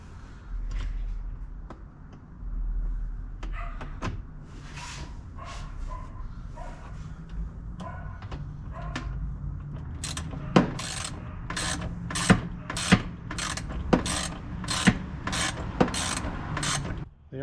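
Nuts being tightened while a Kemimoto tablet holder is fitted to a Maverick Trail, a series of sharp, regular ratchet clicks up close over low mechanical rustling, with a dog barking faintly early on.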